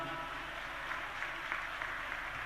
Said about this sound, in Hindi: आप लोग भी इस आयोजन के लिए उनको ताली बजा करके धन्यवाद दो।